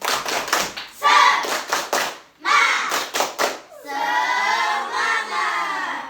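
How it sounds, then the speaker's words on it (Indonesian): A school class performs a rhythmic clapping chant, bursts of hand claps in patterned groups, then breaks into loud shouting and cheering from the children near the end. "Baik, tepuk semangat."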